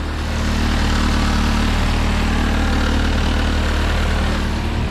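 A car engine, a turbocharged K-series swap in a Mazda Miata, idles low and even throughout, with a constant rumble and no talking.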